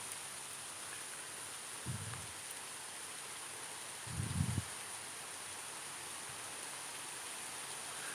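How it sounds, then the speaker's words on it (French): Rain falls on tree leaves as a faint, even, continuous hiss, broken twice by soft low thumps. No voices. "J'adore entendre la pluie tomber comme ça, sur les rebords de fenêtres ou sur le feuillage des arbres."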